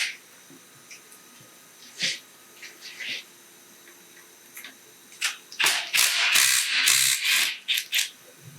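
A ratchet works nuts loose during a flathead engine teardown: scattered faint clicks and brief rasping bursts early on, then a dense, loud run of quick ratcheting strokes near the end, close by with shop noise around.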